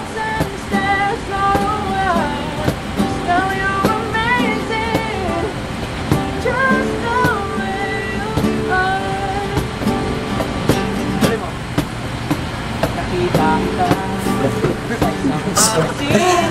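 Sea waves wash steadily on a Palawan beach, a constant broadband surf under people jamming and singing nearby, with occasional sharp knocks over the rushing water.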